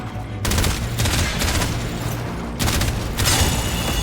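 Heavy automatic gunfire from Warframe gameplay blasts in dense, loud bursts with a short break midway, close and dominating, with no talk over it.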